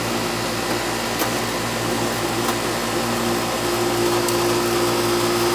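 An old Goodman R22 AC condenser unit runs with a steady, loud fan whoosh and a low compressor hum that stays constant throughout, with faint ticks now and then.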